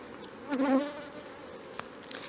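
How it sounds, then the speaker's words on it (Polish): Honeybees buzz at a hive with a short, close hum that rises then fades, over a soft background hiss. "Jeżeli chodzi o pszczoły, są one w tej chwili w szczycie swojego rozwoju."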